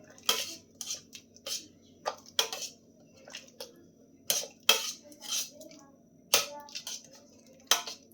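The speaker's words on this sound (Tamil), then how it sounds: "இந்த மாதிரி நல்லா மசிச்சிருங்க" Boiled vegetables for Gujarati-style pav bhaji being mashed in a pot with a masher, a series of close, irregular squishing thuds and scrapes repeating throughout, no talk.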